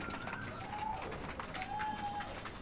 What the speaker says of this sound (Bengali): দেখেন সব কবুতর খাচ্ছে কবুতরের পেটে কি খিদা